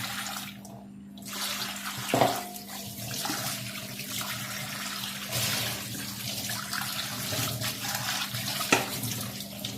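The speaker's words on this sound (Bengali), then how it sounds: "তো আমি এগুলো হচ্ছে ধুয়ে নিই।" Dishes are washed under a running kitchen tap, a steady close gush of water with occasional clinks and knocks of crockery, pausing briefly near the start.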